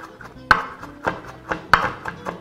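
A knife chops through fresh herbs on a wooden board, seven or eight sharp, close knocks in an uneven rhythm, with no talking.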